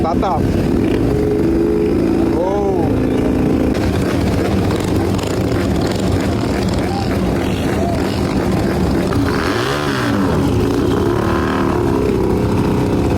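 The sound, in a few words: custom turbo Benda Chinchilla 500 motorcycle starting up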